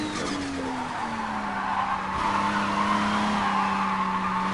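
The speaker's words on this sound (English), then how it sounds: "Hopefully you can hear the car and everything too, and hear how the car is sounding." Car drifting in the video game Japanese Drift Masters on PS5, a continuous loud tire squeal with shifting pitch over a steady engine drone, no talking.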